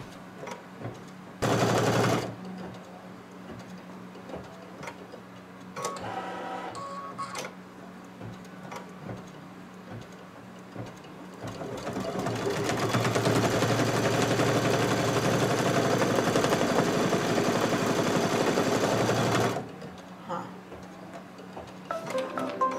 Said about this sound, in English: Stitch the back panel part one placement line.